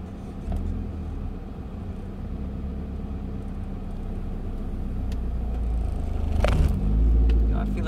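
A manual-transmission car pulls away in first gear, the engine rumbling low and climbing gradually louder, with a short scraping sound near the end and a person speaking faintly in the cabin.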